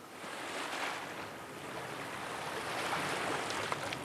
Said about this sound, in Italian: I remi battono l'acqua.